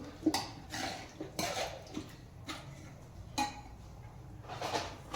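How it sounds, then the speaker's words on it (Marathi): Cooked chickpea-leaf greens being mashed in a pot, with irregular utensil knocks and metallic clinks against the pot and soft wet squishing between them, close and fairly quiet. "हे पूर्ण गरगटायचं असं एकजीव होईपर्यंत अशा पद्धतीने गरगटून घेत आहे बघा मी"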